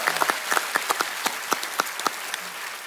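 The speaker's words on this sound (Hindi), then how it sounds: "एक बार जोरदार तालियां हो जाए।" Scattered clapping from a small studio audience on The Kapil Sharma Show, individual claps audible as a loose, uneven patter at moderate volume.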